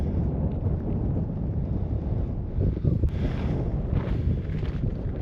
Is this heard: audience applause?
no